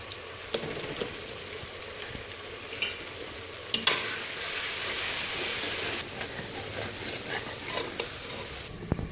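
Turmeric, salt and red chili stirred into hot frying oil for Punjabi aloo gobi, a steady close sizzle with scraping stir strokes that swells into a louder hiss midway before easing back.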